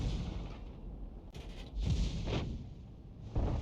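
Heavy artillery shot from an Object 261 self-propelled gun in World of Tanks, a deep booming blast with a rumbling tail, followed by further thuds against steady low background rumble, no talking.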